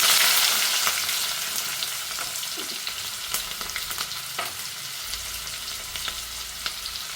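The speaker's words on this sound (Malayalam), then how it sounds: "അതിലേക്ക് നമുക്ക് കുറച്ച് ഉള്ളി വറുത്തെടുക്കാം" Steady broadband sizzle of onions frying in hot oil, with occasional clicks and scrapes of stirring, continuous and close.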